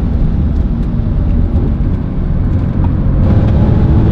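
Audi RS4 B7 engine droning loud and steady from inside the car while driving, a deep continuous rumble with no talking.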